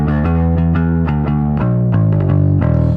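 Electric bass runs through an HX Stomp, blending an amp-and-effects line with a distorted DI line, playing a loud, close, gritty sequence of plucked notes with a sustained low end.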